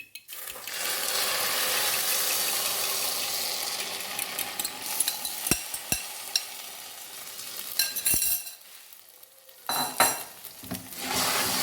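A spoon stirs an egg, milk and bread halwa in a pan over low heat. A loud, close sizzling hiss carries scraping and clicking strokes, then it thins into sparser, sharper scrapes and taps.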